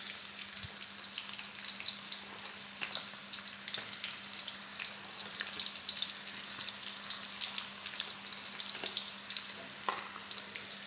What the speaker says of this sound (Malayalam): നമുക്ക് ആദ്യം ഈ സവോളയൊന്ന് ഇതിനകത്തിട്ടൊന്ന് വറുത്ത്